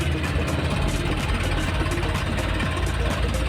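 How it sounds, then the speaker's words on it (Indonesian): A Honda Vario 125 scooter engine runs steadily, a continuous rough, growling drone at close range with no clear rise or fall in pitch. "Suara ngorok mesinnya itu terlalu, menurut saya terlalu keras ya"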